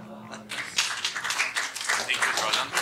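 Conference audience applauding after a speech on OTT services and net neutrality, clapping starting after a brief spoken lead-in and then holding as a steady, moderately loud patter of hands.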